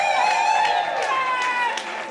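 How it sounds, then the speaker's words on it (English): Audience applause and cheering for a panelist at a sports panel event, a steady wash of clapping with a few louder bursts over lingering music, no clear speech. "can you please give a massive round of applause to the one we call Paige Baby Gray?"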